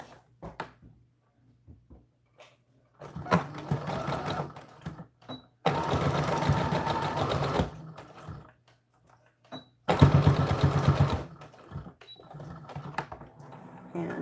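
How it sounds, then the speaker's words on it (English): A sewing machine seaming the fabric of an American Girl doll dress runs in two loud close bursts separated by a pause, with quieter handling clicks and fabric shuffling between runs. "Let's go ahead and seam this"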